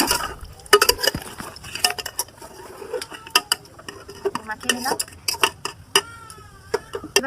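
Food going into a silver cooking pot for handi chicken, with scattered metallic clinks, scrapes and knocks of utensils against the pot, close and irregular.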